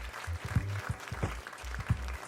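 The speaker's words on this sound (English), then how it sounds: "Stop the applause." Applause heard under a low, rumbling background, a moderate patter of clapping with some uneven thumps, fairly close and lasting a couple of seconds.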